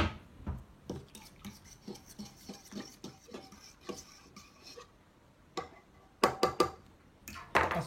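Fork stirring seafood couscous in a dish, a series of light irregular clinks and scrapes, close and fairly quiet, picking up into sharper taps toward the end.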